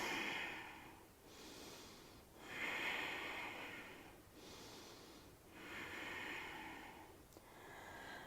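Slow, deep breathing during a yoga standing split: long nasal inhales and exhales alternate in a steady rhythm, close and quiet, with no talking.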